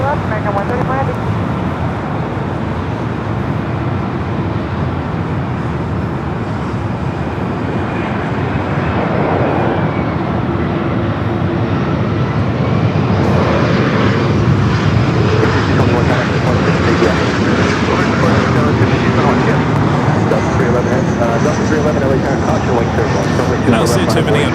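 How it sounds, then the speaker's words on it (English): An American Airlines Boeing Dreamliner jet takes off from runway 24 left on the north side of LAX, its engines a loud, steady roar that swells and holds throughout, with voices talking over it. "You don't see too many American and Dreamliners taking off up here on the north side."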